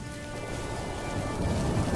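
Heavy rain pouring down as a story sound effect, a dense, continuous hiss that swells slightly louder over two seconds, with no voices.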